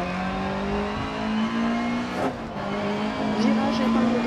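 Opel Manta 400 rally car driven at full attack on a rally stage in Germany, engine howling steadily up and down in pitch from onboard with a brief lift and skid around the middle, co-driver's voice faint beneath.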